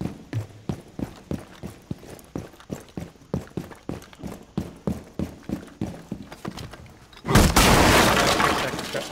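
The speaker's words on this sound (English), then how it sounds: "I'm gonna go smash the trap doors." Trap doors being smashed in the video game Rainbow Six Siege, a rapid series of sharp, evenly spaced impact thuds in steady rhythm, ending in a sudden loud burst of breaking debris.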